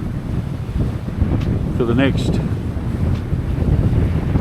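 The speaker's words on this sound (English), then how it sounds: "No noise, except for the ocean." Steady, loud wind and ocean wash surround a sailboat crossing open sea from Panama toward the Galapagos in 12 knots of wind, the rush continuous throughout, while a voice briefly speaks over it.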